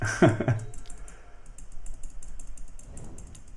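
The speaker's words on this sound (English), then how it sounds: "you hear the clicking, right?" Mouse clicks and key taps while playing Magic: The Gathering Legacy online with an Urza Tron deck, a loud thump at the start followed by a steady run of light, quick clicks close by.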